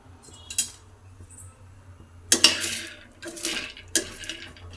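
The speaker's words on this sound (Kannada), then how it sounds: "ನಾನಿಲ್ಲಿ ಕಡಲೆ ಬೀಜನ ಹುರ್ಕೊತೀನಿ" Raw peanuts being dry-roasted in a hot pan for North Karnataka shenga chutney: scattered metallic scrapes and rattling clatters of the stirring utensil against the pan, louder in a few distinct bursts with quieter gaps between.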